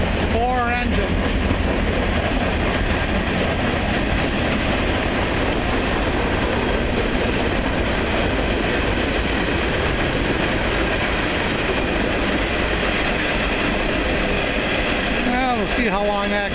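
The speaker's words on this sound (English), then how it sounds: "Stopping long enough here to do a little train spotting, and here it comes." A freight train hauled by four locomotives rolls past close by during a hike, a loud, steady rumble and clatter that fills the whole stretch, with a brief horn-like tone near the start and end.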